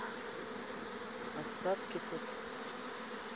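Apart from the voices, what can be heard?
swarm of bees entering a hive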